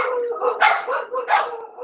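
Dogs howl nearby in a long, wavering chorus of rising and falling howls, with a couple of sharper yelping swells.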